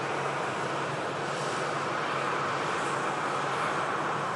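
A TUI Boeing 737 powers down the runway on its takeoff roll at Manchester Airport, a steady, loud broadband jet roar that holds constant without a break.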